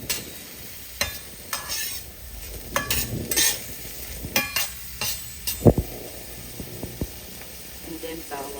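Sliced onion sautéing in a pan for ginisang ampalaya, a loud close sizzle broken by repeated stirring scrapes and clacks of a utensil, with a person's voice briefly in between.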